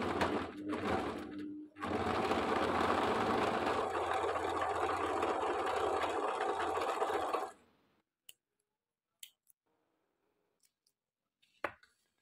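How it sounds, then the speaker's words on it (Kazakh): An overlocker runs steadily for about six seconds as it serges the shoulder seam of a garment. The whirring is loud and continuous, then stops, leaving a few faint clicks and handling noises. "Міне иығын оверлоктап шықты."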